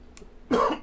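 A single cough bursts out loud and close after a quiet lead-in, with a second short cough starting at the very end, heard during a Dead Island game session.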